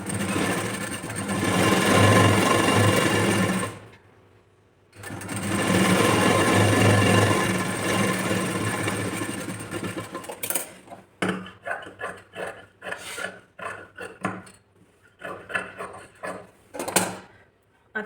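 A sewing machine stitches the lining onto a blouse sleeve in two long continuous runs separated by a brief pause, then gives way to short stop-start bursts and handling clatter.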